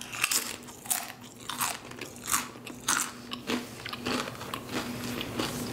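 Crunchy bites and steady chewing of a cold delivered Subway sandwich on bread that was toasted and has gone extra chewy, repeated close-up bites in a quiet room with no talking.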